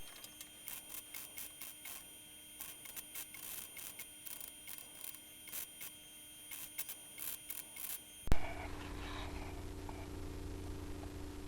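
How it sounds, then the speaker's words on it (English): A welder lays down a new flat panel in the engine bay of a 1973 Celica, rapid crackling bursts in a stuttering rhythm, followed by a sharp pop and a louder steady buzz. "Now we're going to weld it up."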